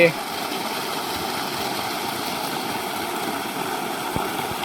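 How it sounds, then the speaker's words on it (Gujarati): A motor pump installed in an open well on a farm runs with a steady, droning hum that stays even throughout, heard close by with no clear speech over it. "ફાઇનલી મોટર ચાલુ થઈ ગઈ છે"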